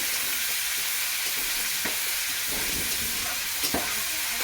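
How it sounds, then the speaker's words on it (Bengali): Onion and garlic frying with spices in hot oil with cumin, a steady close sizzle with occasional stirring scrapes and clicks, no one talking. "আগে একটু পেঁয়াজটা আর রসুনটা ভাজা ভাজা করে নিচ্ছি"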